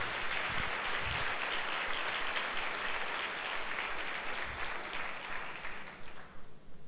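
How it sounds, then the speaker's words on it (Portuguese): A church congregation at a Sunday service applauds, a dense sustained wave of many hands clapping that fills the room before thinning out into scattered claps toward the end. "Então, por favor, dê um aplauso a Jesus."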